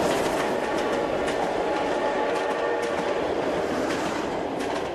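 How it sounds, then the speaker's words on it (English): Train rolling steadily along a railway, a loud continuous rumble with clickety-clack wheel rhythm and no voices. "when Russians migrated, they took the train"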